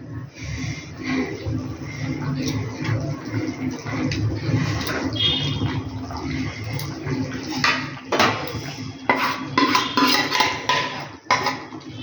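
Fried potatoes going into a boiling curry gravy for Kashmiri aloo dum, with close clattering of a utensil against the pot, bubbling and splashing, and a faint voice in the background.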